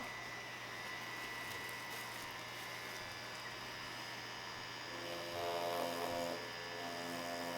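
A Mummy Anubis tattoo machine runs with a steady low electric buzz and hum, faint and continuous, with a slight swell toward the end and no talking.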